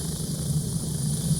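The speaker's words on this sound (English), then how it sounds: "So this is the helicopter ride." Steady helicopter rotor and engine drone during a ride in the Gray Zone Warfare video game, a constant low rumble with a high whine above it, continuous and without talk.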